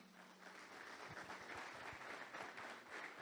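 A church congregation claps for a member during a service, making soft, steady applause that sounds fairly distant and quiet throughout.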